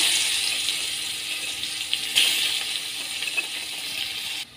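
Chopped onions frying in a wok, a steady hissing sizzle lasting several seconds with a brief sharper crackle partway through, close and moderately loud, no talk.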